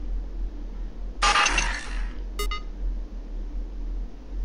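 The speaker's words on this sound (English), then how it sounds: "how do you have the ability to pick up and destroy a phone?" In the game Five Nights at Candy's 2, a phone is smashed with a sudden crash and shattering burst lasting under a second, followed by a short electronic beep over a low steady hum.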